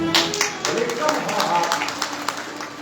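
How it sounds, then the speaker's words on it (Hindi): Listeners at a Ram Katha religious discourse in a temple hall clap their hands in a loose, uneven run of claps, with voices and a faint tonal background continuing underneath. "ताली बजाते हैं।"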